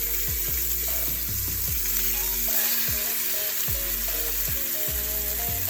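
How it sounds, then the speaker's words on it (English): Beef short ribs searing in an Instant Pot, a loud, continuous close sizzle with no pause, while repeated tonal beeps or chimes sound over it and no one speaks. "So I'm going to let this saute for 5 minutes on this side"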